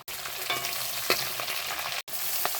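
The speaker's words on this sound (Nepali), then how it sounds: "अब म प्याज हाल्दैछु।" Chopped onion hitting hot oil in a pan over an open fire, with a continuous bright sizzle and crackle, a few louder spits and a brief dropout, no voices.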